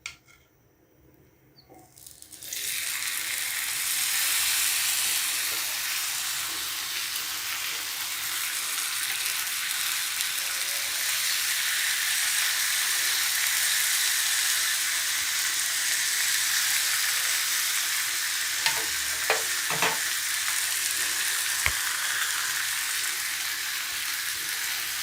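Tandoori chicken pieces drop into a hot pan and burst into a loud, steady sizzle that fills the scene close up, with a few faint clinks near the end.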